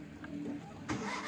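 A Suzuki Mehran car's engine cranks and then catches near the end, a brief, faint mechanical whirr that swells into a louder burst.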